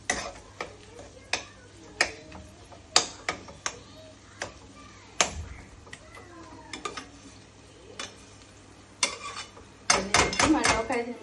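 A spoon stirs chopped ivy gourd and onion in a metal pot with sharp, irregular clinks and scrapes against the pot, close and fairly loud, with no talking.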